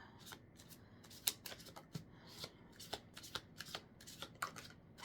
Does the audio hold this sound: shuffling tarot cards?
yes